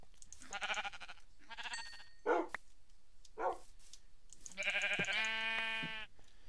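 Sheep bleating in the Minecraft video game, several separate bleats in a row, clear and fairly close, with quiet gaps between them and a longer, tonal bleat near the end.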